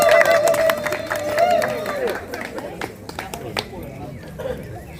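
An audience at a political party meeting in Brussels claps and cheers, with scattered applause and crowd noise fading over a few seconds under a speaking voice.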